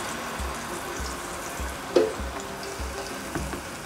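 Mackerel frying in four tablespoons of coconut oil in a pan, a soft continuous sizzle with light clinks and a sharp tap near the middle, low thumps in the background.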